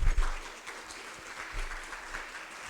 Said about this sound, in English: Let's welcome the two speakers with a warm round of applause.